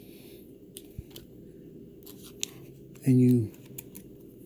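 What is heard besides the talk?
trimming blowgun dart material at the top of the barrel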